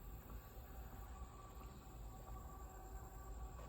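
An eastbound Norfolk Southern manifest freight train rolls past at Hoover Road as a steady, faint, continuous rumble of wheels and cars at a distance, with no voices.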